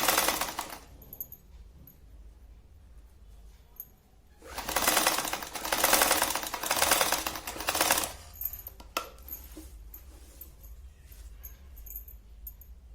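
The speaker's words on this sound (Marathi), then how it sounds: "इथे शिवायला सुरुवात करायची" A sewing machine stitches a saree for a Gudi pole, a nearby rattling whir that runs in short bursts with a longer, louder run in the middle and quieter handling between.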